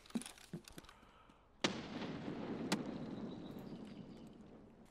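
A grenade explodes in the video game Escape From Tarkov: a sudden loud blast followed by a sustained rumbling roar, with a sharper secondary crack about a second later, after a few scattered footstep-like knocks.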